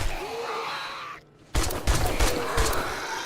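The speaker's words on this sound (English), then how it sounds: "Please keep shooting, man." Gunfire in the zombie survival game 7 Days to Die, modded: a brief dip to near silence, then a burst of several sharp shots in quick uneven succession, loud and close over a steady background hum.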